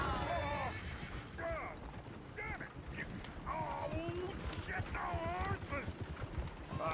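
Horses whinny repeatedly in Red Dead Redemption 2, high wavering neighs among clip-clopping hooves and a busy outdoor street, with people talking nearby.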